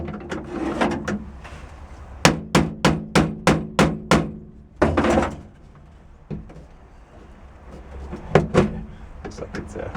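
Rapid series of about eight sharp metallic hammer blows punching out the centre of a part on a Cushman meter maid, followed by a few more scattered strikes and clatter in a workshop.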